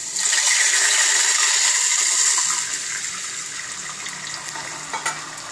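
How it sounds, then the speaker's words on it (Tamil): Tamarind water poured into a hot pan for kulambu, a loud rushing splash and sizzle for about two and a half seconds that then eases into a softer, steady simmering hiss. "இப்போ புளி தண்ணி விடுறேன்."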